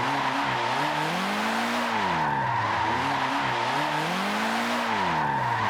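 A car drifts in Forza Motorsport 7, its engine droning with wavering, rising and falling pitch under a continuous loud tire skid and squeal that holds throughout.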